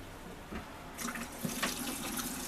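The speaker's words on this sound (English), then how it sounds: "Running the water." Cool tap water runs from a faucet into a large canning pot, starting softly and then swelling into a steady, fairly close gush that continues without speech.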